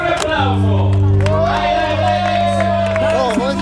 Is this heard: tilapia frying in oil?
no